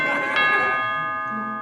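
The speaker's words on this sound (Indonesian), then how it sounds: "Bel bunyi." A doorbell chime rings once indoors in a home comedy scene, its bright bell tones ringing out and slowly fading over a second and a half, fairly close and clear.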